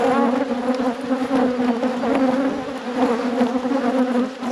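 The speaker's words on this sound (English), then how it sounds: "So plenty of bees." Honeybees buzzing over an open, queenless beehive, a loud steady drone close by with no talk.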